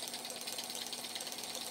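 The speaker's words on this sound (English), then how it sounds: "The nice little Stirling engine there" A small Stirling engine with bevel gears runs steadily on its own, giving a fast, even mechanical ticking and rattling that stays constant throughout with no voices.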